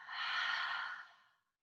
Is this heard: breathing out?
yes